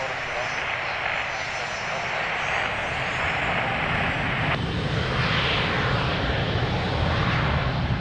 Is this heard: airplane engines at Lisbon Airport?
yes